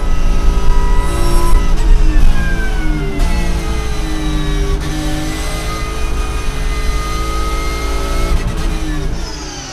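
Racing cars scream past at high revs on the Paul Ricard circuit, loud engine whine rising and falling as they speed by close, with a constant roar throughout.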